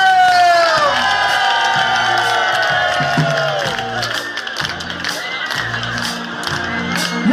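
A large audience at a live Dutch stage event claps and cheers loudly for the band's leader, with whoops and shouts over a sustained roar. Music plays underneath, and the noise stays strong throughout before easing slightly.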